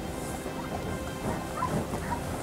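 A hunting dog at a friendly small-game dog championship gives a few scattered barks and yips, moderately distant, over a low outdoor background with no clear speech.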